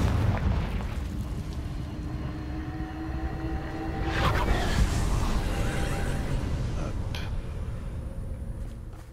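A fiery Confringo blasting spell from the Hogwarts Legacy game erupts in a broad, rumbling explosion midway through, swelling over a dense bed of game noise and then slowly fading.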